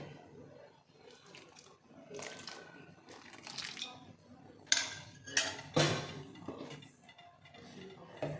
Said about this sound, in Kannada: ನಾನು ಇನ್ನೊಂದು ಸ್ವಲ್ಪ ನೀರು ಹಾಕ್ಕೊತಾ ಇದ್ದೀನಿ